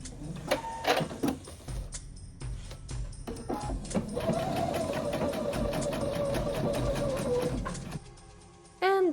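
A sewing machine stitches doll coat fabric in short tacking runs, with rhythmic mechanical clatter in bursts, then a longer continuous stitching run, close and fairly loud.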